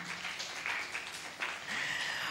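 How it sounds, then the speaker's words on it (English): Seminar audience at a health-technology event clapping for a speaker, a fairly faint and distant round of applause with uneven swells. "let's show us our appreciation with a round of applause to Dr. Gigi Aryan."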